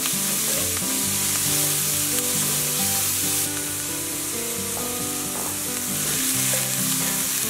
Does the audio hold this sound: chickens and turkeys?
no